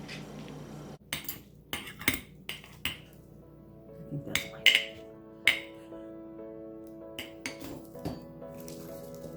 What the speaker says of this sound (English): this is where you take your soup spoon and you just start filling it in